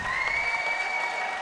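Crowd applause at a para judo Grand Prix in Heidelberg, a steady, dense wash of clapping filling the arena without letup.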